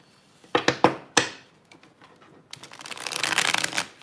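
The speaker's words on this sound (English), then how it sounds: "Let's do one more shuffle." Tarot cards are shuffled by hand: a few sharp riffle snaps and slaps, then a longer dense fluttering riffle building up and stopping, close and clear with no talking.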